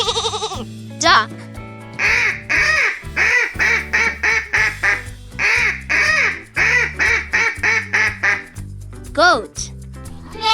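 A duck quacks in many quick, nasal bursts, grouped in rhythmic runs with short pauses, loud and close over light background music.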